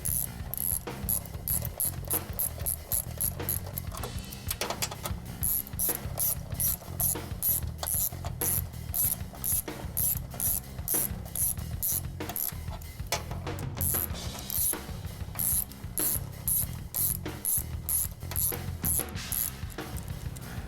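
A hand ratchet tightens bolts on a car's sway bar, a fast and steady run of close metallic clicks that goes on with no pause, heard alone without talk.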